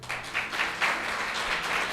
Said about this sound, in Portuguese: Você pode aplaudir forte.